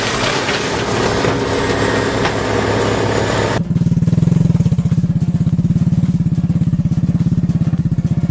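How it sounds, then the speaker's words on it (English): A small motorcycle hauls large logs, its engine note giving way at about 3.6 seconds to a loud, steady, rapidly pulsing low chug that carries on to the end, close and without speech. "the motorcycle is carrying large logs"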